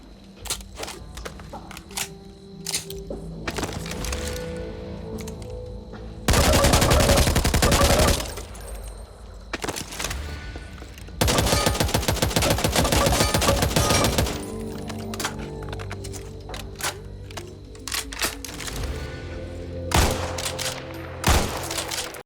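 Gunfire from weapons in the zombie shooter Back 4 Blood, with two dense bursts of rapid automatic fire standing out among scattered single shots, thuds and game effects, loud and close with no talking.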